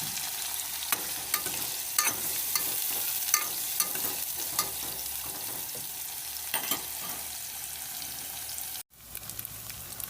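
Prawns frying alone in hot oil for a dosakaya prawn curry, a continuous soft sizzle with scattered crackles and pops, close and fairly quiet, ending with a brief dropout and a few light sputters.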